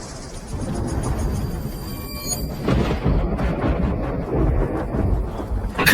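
A heavy rainstorm with thunder pours steadily and loudly, with wind-like rushing and deep rumbling throughout, no voices heard.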